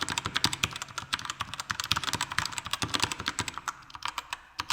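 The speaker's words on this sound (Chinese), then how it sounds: "我最多就是可以给你听它打字的声音是怎样子罢了" Rapid keystrokes on a Royal Kludge RK61 60% mechanical keyboard with brown switches, a close, steady run of clacky taps with brief pauses and no talking.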